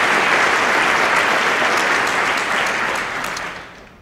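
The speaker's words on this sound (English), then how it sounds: "Can we give them a big, big round of applause for having this event here tonight?" An audience at an evening mayoral panel event bursts into a loud, sustained round of applause, many hands clapping densely and evenly before tapering off near the end.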